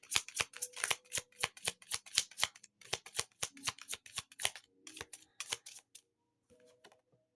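Tarot cards shuffled in a quick run of crisp riffling snaps, close and fairly loud, then a few softer slides as cards are drawn near the end.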